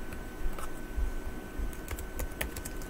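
Keys clatter on a computer keyboard in quick irregular bursts of typing, soft and close in a quiet room with no talking.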